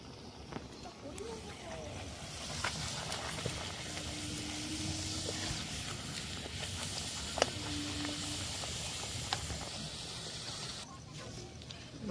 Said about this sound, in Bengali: গরম হয়ে গেছে, দিয়ে দেবো লুচি